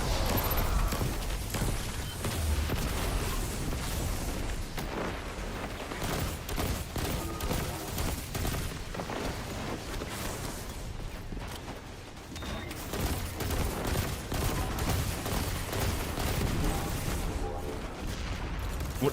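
Hand cannon shots fire repeatedly in Destiny 2, in quick succession against a boss within a dense, loud game mix of other effects.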